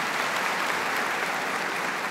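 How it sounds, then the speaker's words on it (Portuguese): A church congregation applauds a priest who has just stood up, a dense, even patter of many hands clapping continuously, moderately quiet and without voices. "Pois é, palmas para ele, né?"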